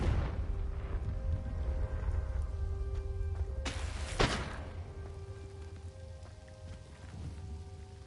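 A Confringo fire-blast spell from Hogwarts Legacy detonates once midway as a sharp, bright crack with a short boom, set against continuous rain-like hiss and faint musical game ambience.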